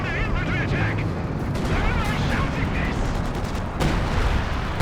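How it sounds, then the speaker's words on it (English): An artillery barrage thunders in Company of Heroes 2, a dense, continuous rumble of booms and crackling impacts that fills the whole stretch, with a commentator talking over it. "Sector artillery dropped down again"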